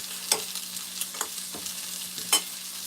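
Seasoned food stirred in a frying pan with onion powder, a utensil scraping in several separate strokes over a low steady hum, close and moderately loud, no voices.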